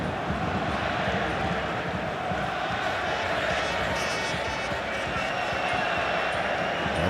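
A crowd of Argentina fans roaring and chanting at a 1998 World Cup match against England, a dense, steady stadium din heard from a distance with a commentator talking over it.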